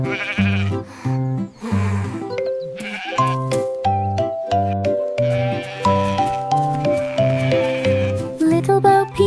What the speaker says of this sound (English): Sheep came running to her side.